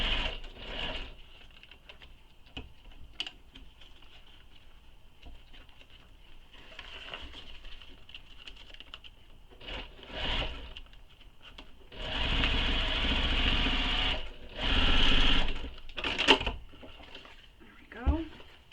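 A sewing machine fitted with a zipper foot stitches a small wallet in repeated bursts, with fast, rattling runs of needle strokes, the longest and loudest near the end, separated by quiet pauses.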